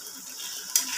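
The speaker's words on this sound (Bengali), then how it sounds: "দেখেন মশলাটা ভেজে নিলাম" Spices frying in a pan for a meat dish, a brief soft hiss that swells abruptly into a brighter, louder sizzle near the end.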